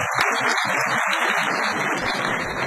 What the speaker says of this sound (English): A big round of applause for that, please.